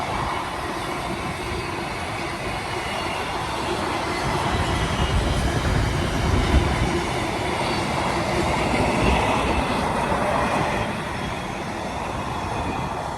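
A model railway train rolls past for several seconds, its wheels making a continuous rumbling clatter that swells as it comes closest and then fades, with no voices.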